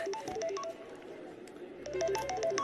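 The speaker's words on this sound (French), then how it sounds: "le téléphone qui sonne" A telephone ringing in a French home gives a melodic electronic ringtone in two quick bursts of rapid tones, separated by a short pause, fairly faint behind room sound.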